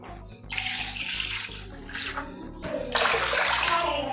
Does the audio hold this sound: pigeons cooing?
no